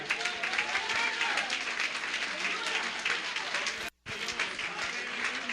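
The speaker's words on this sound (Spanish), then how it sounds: "Denle un aplauso al que vive" Members of a church congregation applaud at a service in sustained, fairly dense clapping, softly recorded, with a brief dropout near the end and voices mixed in.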